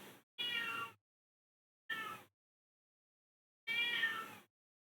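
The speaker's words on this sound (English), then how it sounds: "Why is she meowing so much?" An indoor female cat meows three times in drawn-out, insistent cries spaced a second or more apart, close and clear against silence, after a cut-off fragment at the start.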